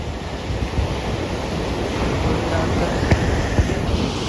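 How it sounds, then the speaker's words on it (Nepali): Ocean surf on a beach rolls and crashes continuously, close and loud, with heavy wind buffeting the microphone and a few sharper splashes standing out. "छाल कस्तो छाल लगाइरहेको छ है पुरै"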